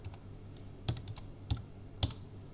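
Keys clicking on a computer keyboard during payroll data entry, with about three distinct sharp presses, the last one being the enter key, close and quiet with short gaps between them.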